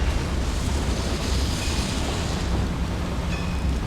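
A Confringo fire spell blast in Hogwarts Legacy on Nintendo Switch, heard as a steady broadband whooshing roar that stays loud and unbroken for about four seconds, with faint tonal game sounds layered on top and no speech.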